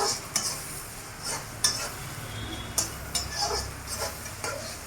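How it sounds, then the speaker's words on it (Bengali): Onion and chilies frying in a kadai for a mixed vegetable and prawn dish, with a constant sizzle and repeated sharp clicks and scrapes of a spatula stirring close up. "পেঁয়াজটাকে আমি ভালো করে ভেজে নেব।"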